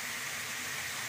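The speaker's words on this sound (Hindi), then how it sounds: "अब ये लास्ट इतना सा पानी बचा है उसे भी हम डाल देते हैं" Water pours into a cooking pot in a brief, continuous gushing splash, close and fairly loud, with no talking.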